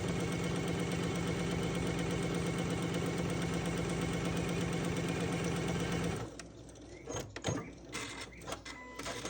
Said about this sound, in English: You're going to sew a 1/4 inch all the way down.